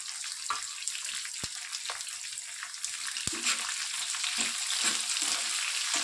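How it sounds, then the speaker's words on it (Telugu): Five medium chopped onions fry in a hot pan for an idli breakfast dish, giving a steady bright sizzle throughout with a few sharp clicks and soft stirring scrapes, and no voices. "నేను కట్ చేసి పెట్టుకున్నటువంటి 5 మీడియం సైజ్ ఆనియన్స్ని వేసి బాగా దూరగా వేయించుకోవాలి"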